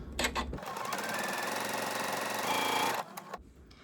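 A sewing machine stitches a quarter-inch seam through quilt fabric in one steady, close burst of rapid needle chatter, with brief handling clicks before and after.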